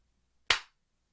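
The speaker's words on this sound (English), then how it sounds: "Let me give it a clap." A single sharp hand clap, close and alone in near silence, decaying quickly.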